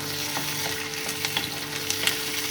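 Medium onion and tomato frying together in a pan for cauliflower kofta, a soft continuous sizzle broken by light taps and scrapes of stirring, with no voices.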